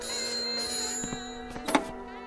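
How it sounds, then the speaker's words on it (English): A telephone bell rings out a short burst in a quiet room, the tone steady and moderately loud before it cuts off. "Or the telephone ringing."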